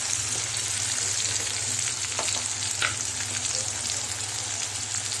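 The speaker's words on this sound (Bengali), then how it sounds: "এগুলো দিয়ে আমি মশলাটাকে ভালো করে ভেজে নিচ্ছি।" Spice powders with garlic paste, red chili and turmeric frying in oil in a pan for katla fish curry, making a steady close sizzle with a low hum beneath and a few light stirring ticks.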